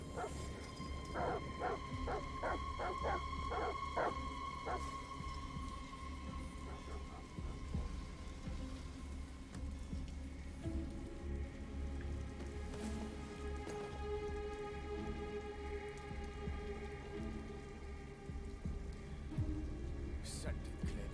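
Steady rain in a stormy scene from the video game Detroit: Become Human, a constant wash of falling water with faint low rumbles of thunder; dogs bark in bursts early on and voices talk over it.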